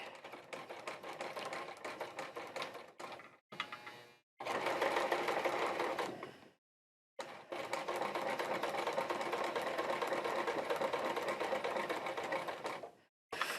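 Sewing machine stitching black thread into tan ultrasuede chaps, running in long steady bursts separated by several brief stops, close and fairly quiet.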